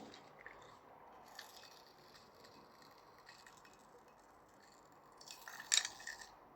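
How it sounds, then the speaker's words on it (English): Faint, low grinding and creaking of worn gears rubbing in an old door closer lacking hydraulic oil, building to a brief louder squeak near the end. "that's the sound of the gears inside rubbing against each other because there's lack of hydraulic oil in there"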